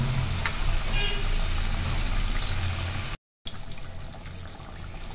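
A paneer curry simmers in a pan: a continuous, fairly loud bubbling and hissing wash, cut by a brief silent gap partway through, with no voices.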